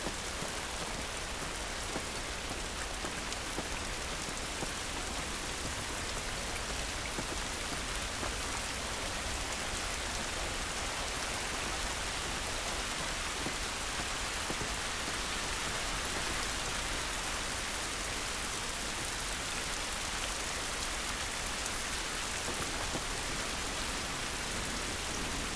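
Heavy rain pouring down in The Last of Us, a steady broadband hiss of drops on surfaces that stays loud and unbroken throughout, with no voices.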